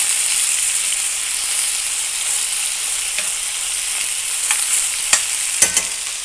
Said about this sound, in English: It's good and hot. You can hear that sizzling.